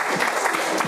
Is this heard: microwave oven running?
no